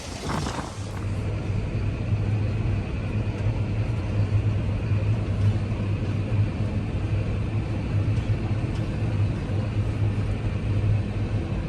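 A steady, close tractor engine rumble with a low hum drones continuously, loud and unchanging, heard from inside the cab during hay season.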